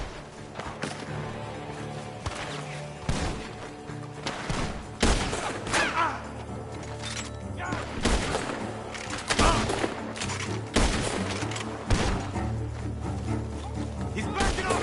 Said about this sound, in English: The gunshots are coming from that barn.